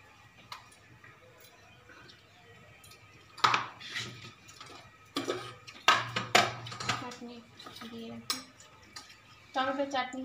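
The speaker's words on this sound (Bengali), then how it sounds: "চুমকি পরিবেশন করছে।" Dishes and cutlery clink and clatter while a home meal is served, in scattered bursts of sharp knocks and scrapes with quieter gaps between them, and people talking in the background.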